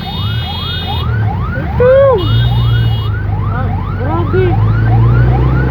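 A police car siren wails in repeated rising sweeps as it passes close by, loud and dominating. Engine rumble runs underneath, and a person briefly speaks over it.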